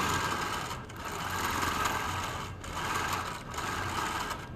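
A sewing machine stitching free motion quilting, a steady rapid whirring hum that swells and eases in bursts with brief pauses between runs, close and without speech.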